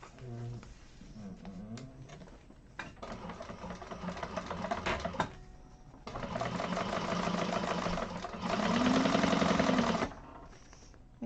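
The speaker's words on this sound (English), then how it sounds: "we're going to top stitch through this bottom accent piece to hold that seam in place" Sewing machine top stitching through a bottom accent piece on a handbag seam, running in several bursts of steady rapid stitching with short pauses between, close and moderately loud.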